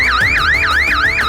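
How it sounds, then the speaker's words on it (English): A siren mounted on a 45-foot portable solar light tower on a 7.5-foot trailer with a 12V battery bank wails loudly. It rises and falls in quick repeating sweeps, about four cycles, alone and very close. "Alarms and sirens can also be added."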